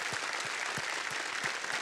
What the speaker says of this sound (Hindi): एक बार फिर तालियों के साथ इनका हम अभिनंदन करते हैं